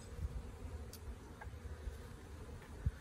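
Honeybees from a newly installed 3 lb package hum faintly and steadily during a first hive inspection, a low soft buzz with occasional small knocks of frames being handled.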